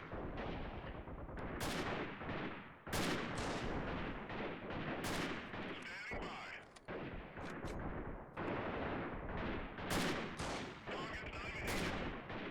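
Sniper and battle gunfire in the video game Freeman: Guerrilla Warfare: a dense, loud barrage of sharp shots and crackling bursts fills the whole stretch, with brief louder cracks standing out every few seconds.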